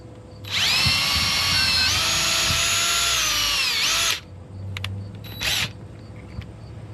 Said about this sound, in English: drill a hole on the inside